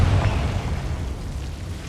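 A Confringo blasting spell detonates in Hogwarts Legacy on PS5, a loud, deep boom at the start that decays into a rumbling tail over less than two seconds.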